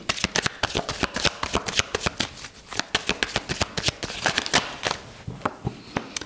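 Tarot cards shuffled by hand, a rapid run of crisp riffling snaps and slaps, close and loud, with no talk.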